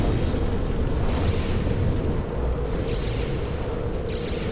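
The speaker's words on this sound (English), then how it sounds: "it's the explosion that rocked them a little bit" An explosion from the film Battle of Los Angeles booms loudly as a sustained, rumbling roar with crackling debris sweeping through, staying dense and heavy across the whole stretch.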